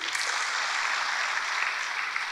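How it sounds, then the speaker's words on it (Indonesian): A church congregation applauds in praise, a steady, dense wash of many hands clapping at moderate distance, sustained evenly throughout without any talk. "Ya, berikan tepuk tangan bagi Tuhan."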